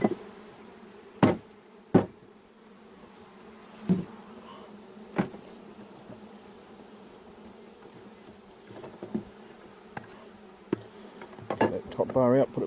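Honeybees buzz steadily while a beehive is split and top bars are lifted out of a deep super to move the bees to a top bar hive. Several sharp knocks and clacks of wood and tools cut through the hum.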